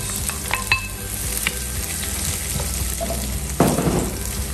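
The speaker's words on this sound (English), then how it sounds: "The first thing we're going to do is to flavor this oil, and we're going to use the onions that we chopped earlier." Chopped onions dropped into hot oil in a pizza-making kitchen, sizzling and crackling steadily with a few clinks, then a louder burst of frying near the end.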